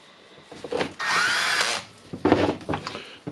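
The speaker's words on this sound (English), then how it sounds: "with this Milwaukee drill." A Milwaukee power drill whirs close and loud, with short bursts at first, then one sustained run of about a second, followed by several more brief revving pulses.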